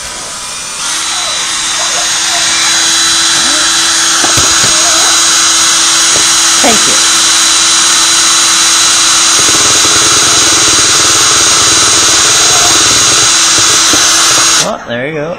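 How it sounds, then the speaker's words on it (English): A high-pitched drill whines steadily for about fourteen seconds, grinding into an ostrich egg shell with occasional scraping changes in tone, loud and close. "Ostrich egg drilling 101."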